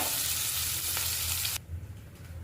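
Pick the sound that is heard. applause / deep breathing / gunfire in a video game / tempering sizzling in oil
tempering sizzling in oil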